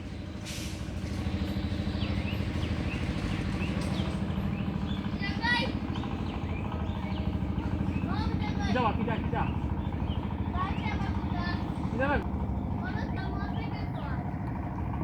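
An engine boat on the Surma river in Sylhet chugs with a steady low rumble, close and continuous, while someone talks over it.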